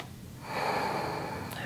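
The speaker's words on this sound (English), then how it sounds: "Breathing here for three." During a seated yoga twist, a steady, airy breath swells in after a quiet moment and holds as a long, soft exhale-like hiss close to the microphone, without speech.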